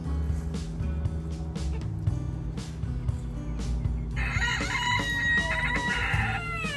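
A rooster crows loudly near a backyard vegetable garden, with one long, strained cock-a-doodle-doo rising late over a background of low engine hum and other birds.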